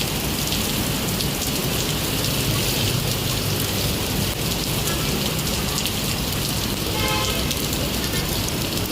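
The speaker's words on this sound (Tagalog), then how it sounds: "Ang lakas talaga ng ulan." Heavy rain pours steadily, a dense, loud hiss of drops hitting surfaces throughout, with no voices.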